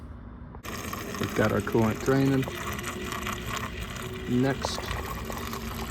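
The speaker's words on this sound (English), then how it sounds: "We've got our coolant draining." Coolant drains from a first-generation KLR650 motorcycle, a steady close trickle and splash of liquid running under a man's speech, with a few gurgling bursts.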